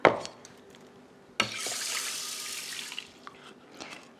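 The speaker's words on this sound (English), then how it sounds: "Now you can add water." Tap water runs steadily into a rice pot for a couple of seconds, a bright rushing splash that starts abruptly after a soft clink and then tapers off.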